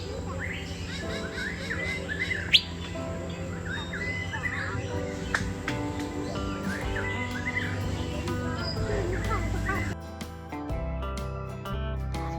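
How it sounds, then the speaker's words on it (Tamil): Dense birdsong fills the Songs of the Forest aviary in Singapore, many chirps and tweets overlapping continuously at moderate volume, with a brief sharp sound near the start and a short quieter stretch near the end. "சாங்ஸ் ஆஃப் த ஃபாரஸ்ட்டுங்கிற பேருக்கு ஏற்ற மாதிரி இந்த குருவிங்களோட சவுண்டுங்களை கேட்குறீங்களா?"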